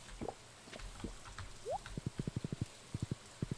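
A horse trots along in the Stardew Valley farming game, a crisp run of evenly spaced hoof clip-clops in quick rhythm, close and fairly quiet, with a short rising whinny-like tone just before the steps begin.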